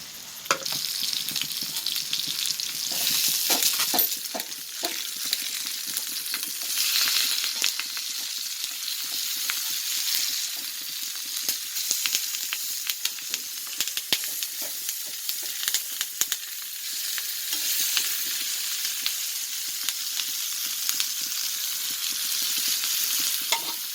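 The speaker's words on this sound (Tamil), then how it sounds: "ஆவோலி மீன் ரோஸ்ட் ஆகிட்டுருக்கு" Black pomfret fish roasting in coconut oil in a pan, a steady close sizzle and crackle of frying that runs unbroken throughout, with no talking.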